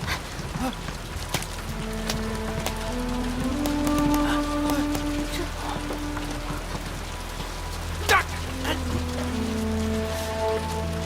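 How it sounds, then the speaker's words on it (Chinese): Steady rain patters on a surface with scattered louder drops, while faint voices and a low hum sit in the background. "天上下雨了！"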